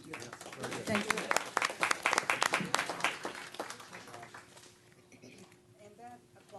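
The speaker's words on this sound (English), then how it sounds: "that applause is for all of you" Audience applause at a board of trustees meeting rises after a presentation, a crowd of steady claps that fades out and gives way to quiet room noise with voices.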